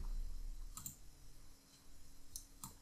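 Mouse clicks on a computer while saving a file, a few crisp, close clicks spread over a few seconds against a faint low hum, with no talking.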